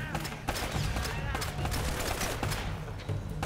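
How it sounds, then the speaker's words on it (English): Shotgun blasts in Uncharted: Drake's Fortune: a dense run of loud, sharp gunfire bursts in a chaotic firefight, with voices talking over it. "Oh, that's a shotgun."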